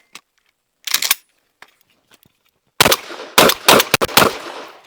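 A Sulun Arms Spas-12 shotgun fires 1 ounce birdshot loads of 8 shot outdoors, with loud sharp blasts: one early, then a rapid string of about five shots near the end, separated by quieter handling clicks.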